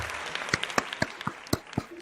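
A small group claps at an awards night, with sparse, separate handclaps spaced unevenly across a couple of seconds over a low room murmur.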